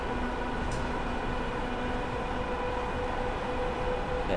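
A train in Train Simulator's Chatham Mainline route runs with a continuous dense rumble and rolling hiss, a steady loud drone with faint tonal whines layered over it and no voices.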